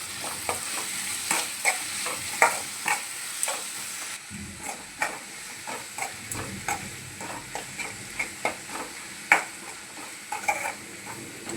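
Raw green mango and onions being stirred in a frying pan, a spoon scraping and clacking against the metal in steady repeated strokes over a soft, continuous sizzle, close and moderately quiet.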